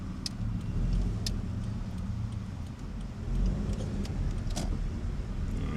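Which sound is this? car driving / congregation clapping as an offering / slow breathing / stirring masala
car driving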